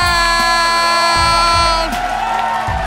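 Audience at a live comedy show cheers, whoops and yells during a crowning vote, a loud crowd roar over a sustained musical tone for about three seconds.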